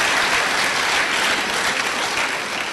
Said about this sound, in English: Please, the applause should be warmer.